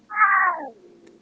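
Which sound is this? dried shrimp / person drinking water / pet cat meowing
pet cat meowing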